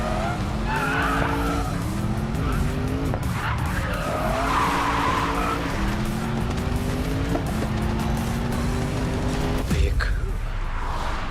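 Tires skid and squeal on an Audi RS7 in the Racing Master mobile racing game, repeated screeching bursts over a rising, falling engine whine that steps through gears, with a voice talking faintly in places.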